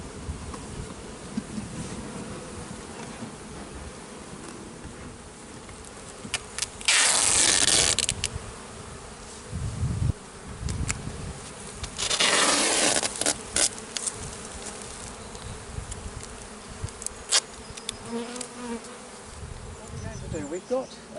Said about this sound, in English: Flick these bees away so they don't get trapped.